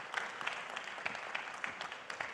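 Audience clapping for the President of Benin, Patrice Talon, at a meeting with French entrepreneurs: a steady, dense patter of many hands, moderately loud and continuous with no talk over it.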